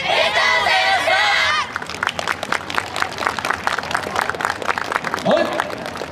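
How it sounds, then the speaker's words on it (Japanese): An audience applauds dancers at a YOSAKOI dance festival in Ibaraki. A loud chorus of shouting voices opens, then steady, lively clapping continues, with a brief call near the end. "拍手をいただきました。"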